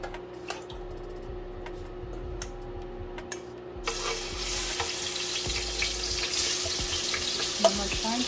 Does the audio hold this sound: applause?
no